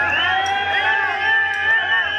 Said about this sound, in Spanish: A ver, un aplauso para Chava.